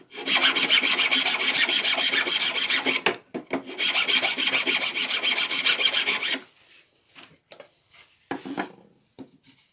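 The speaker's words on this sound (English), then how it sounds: "So I'm going to take a file and I'm just going to file out a tiny bit on the sides" A hand file rasps at a mahogany housing joint in two long, busy bouts of rapid strokes, then a few short, scattered scrapes trail off into quiet.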